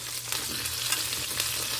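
Steady, dense sizzling of chicken frying in hot oil for orange chicken, close up, with a constant crackling hiss and no talking.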